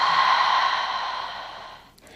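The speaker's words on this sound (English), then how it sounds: "and exhale" A long, audible exhale during a yoga flow, a steady breathy rush that slowly fades out over about two seconds, close and alone.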